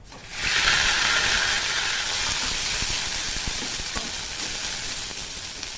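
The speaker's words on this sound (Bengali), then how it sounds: "রসুন ভাজাটা থেকে সুন্দর একটা গন্ধ ছাড়লে সেই পাতা, দেখুন বেটে নিয়েছি পাতাগুলো, পাতাটা দিয়ে দেবো।" Ground bottle gourd leaf paste hitting garlic frying in hot oil, a loud steady sizzle and hiss that bursts in abruptly and holds evenly throughout, with no voices.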